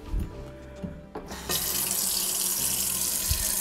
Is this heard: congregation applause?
no